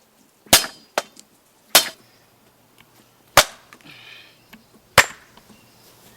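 Firewood being split with sharp, loud chopping strikes, about five hard impacts spaced irregularly a second or so apart, each followed by a brief crack of splitting wood, with quiet between blows.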